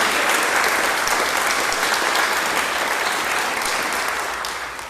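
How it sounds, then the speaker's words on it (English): An audience bursts into sustained applause for program leaders, a dense, even clatter of many hands clapping that stays strong and then tapers slightly near the end. "Have we clapped for them yet?"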